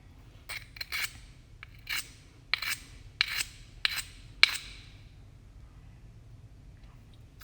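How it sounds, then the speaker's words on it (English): Rock scraped against slate to test hardness: a series of short, sharp rasping scrapes, about eight strokes in an uneven rhythm, close and fairly crisp over a quiet background. "Scraping it, and it is leaving a slight mark."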